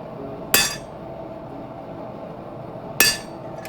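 Hammer blows on a medieval short sword blade while forging a fuller, two sharp metallic strikes a few seconds apart ringing briefly over a steady background hum.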